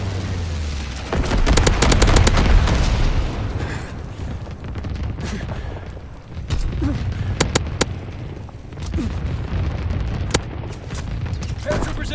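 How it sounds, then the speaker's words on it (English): An incendiary bomber strike in the multiplayer game Call of Duty WWII brings loud, rolling booms and bursts of gunfire throughout, with heavy rumbling and sharp repeated cracks layered together in a dense battle mix. "Low altitude bomber inbound. Dropping incendiary."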